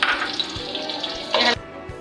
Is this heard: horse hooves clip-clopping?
no